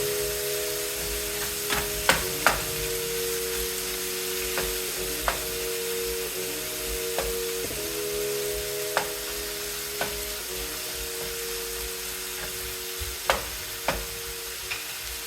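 Ground beef for stuffed tacos fries in a pan with a soft, constant sizzle. A spatula scrapes and taps against the pan at irregular moments throughout, close by, with no talking.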